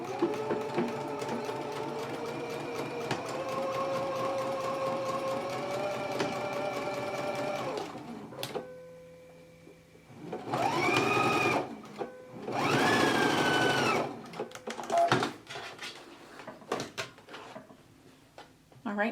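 Sewing machine stitching darts on a Simplicity S8994 skirt, a steady whirring run of about eight seconds, then two short loud bursts of stitching separated by pauses, with handling clicks and some talk nearby.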